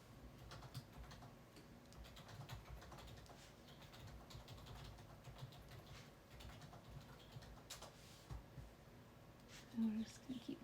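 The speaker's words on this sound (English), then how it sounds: "I know you could probably hear Jerry over there typing in the background" Computer keyboard typing from someone playing EverQuest clicks faintly and steadily in the background of a craft room, partly masked by low room noise and occasional nearby handling sounds.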